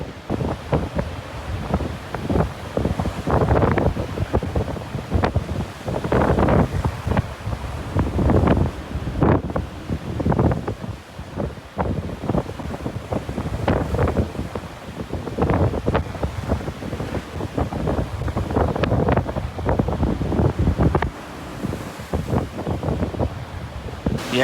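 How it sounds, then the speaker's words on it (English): Strong gusts buffet the microphone on the open deck of a Disney Magic cruise ship on a cold day at sea, with choppy waves rushing and crashing below in a continuous, loud, roaring wash. "It is extremely windy. Waves are extremely choppy."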